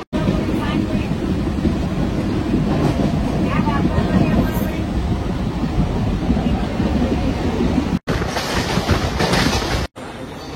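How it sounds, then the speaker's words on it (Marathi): A suburban train pulls into Ghatkopar station in Mumbai, its loud, steady rumble and wheel noise filling the platform continuously, with brief cuts near the end and voices mixed into the din. "आता आमची ट्रेन आली आहे"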